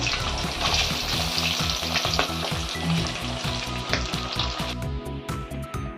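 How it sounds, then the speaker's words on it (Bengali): Katla fish pieces fry in hot oil, a loud, dense and continuous sizzle with crisp spattering close by, steady throughout and easing slightly at the end, with no one talking. "মাছগুলো ভাজা হচ্ছে।"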